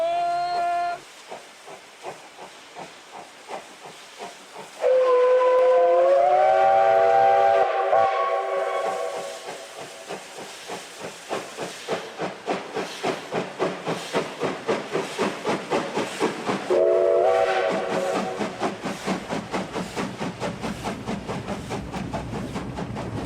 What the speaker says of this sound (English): a train pulled by a steam locomotive